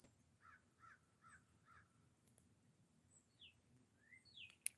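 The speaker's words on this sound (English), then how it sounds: "Do you hear the sounds of the birds?" Crows cawing in a country backyard, a run of four harsh calls close together followed by a few higher, sliding bird calls, all over a steady low outdoor hum.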